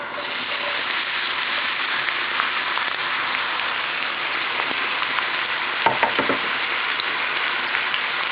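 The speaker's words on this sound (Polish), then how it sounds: "Okrojoną w kostkę cebulę wrzucamy na rozgrzany tłuszcz." Steady, dense sizzling of diced onion frying in hot fat, a constant crackling hiss close by with a brief clatter partway through, no voices.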